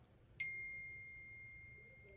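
A phone notification gives a single soft ding that rings on as a thin sustained tone, faint in a quiet indoor room.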